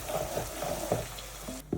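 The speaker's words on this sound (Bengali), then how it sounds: "পেঁয়াজটা প্রায় সিদ্ধ হয়ে আসছে, এখন নেড়ে দিব" Onions frying in a pan sizzle steadily while being stirred, with a few soft scrapes and knocks of a spoon in a brief close-up burst.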